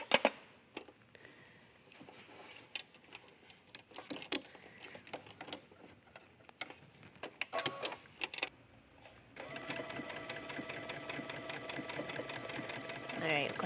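Sewing machine stitching a buttonhole through fabric backed with fusible interfacing, a steady fast mechanical whir running continuously through the last few seconds after scattered handling clicks and rustles earlier.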